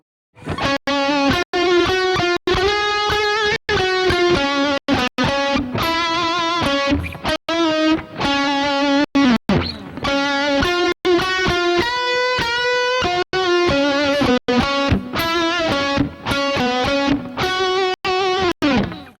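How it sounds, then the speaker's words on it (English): Heavily distorted electric guitar rings out in sustained, wavering chords, struck repeatedly with a thick, undulating buzz throughout. "it's just really to try to create sort of undulating distortion"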